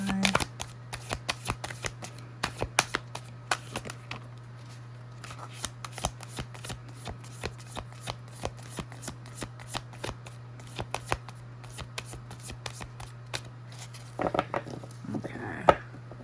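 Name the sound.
shuffling tarot cards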